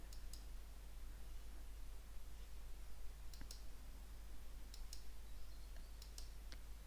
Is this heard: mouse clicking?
yes